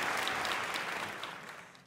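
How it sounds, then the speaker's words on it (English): Audience applause at a jazz foundation event, a dense burst of clapping that gradually fades over a couple of seconds. "Round of applause for the Dukes Foundation."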